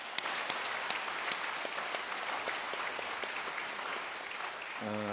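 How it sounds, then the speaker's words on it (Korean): Church congregation applauding retiring elders at a Korean elder retirement worship service: a steady wash of many hands clapping in a reverberant hall, moderately distant, ending with a brief tone. "우리 다시 한번 뜨겁게 축하드립니다. 박수하겠습니다."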